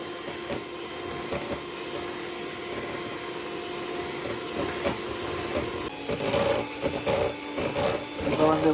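Electric mixer beating cream cheese for a cheesecake, a steady close whirring grind that grows louder and rougher toward the end, with faint speech in the background.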